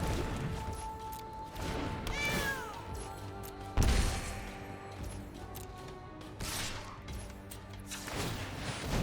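A cat meows in the Magic Arena digital card game, with a drawn-out call amid game sound effects, a sharp crash or impact midway, and a busy layered mix of tones.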